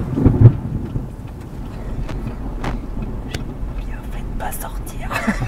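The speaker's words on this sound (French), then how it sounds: "commencent à vraiment nous bombarder autour de la voiture avec leurs fameux coups de tonnerre en coups de canon" Thunder from powerful positive lightning strikes booms around a car during a storm chase in Tornado Alley, a loud burst at the start, then rumbling with sharp cracks, rain and low talk inside the vehicle.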